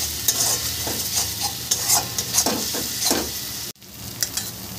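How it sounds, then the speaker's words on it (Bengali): Spices and chili flakes for a loitta fish curry are sautéed in a pan, with repeated scraping stirs over a bright sizzle, close and fairly loud, before a brief drop to near silence. "এবার এগুলো ভালো করে আমি কষিয়ে নিচ্ছি।"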